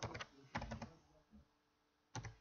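Short clusters of soft, close keystrokes on a computer keyboard while code is typed, with brief pauses between bursts and a final group of taps near the end.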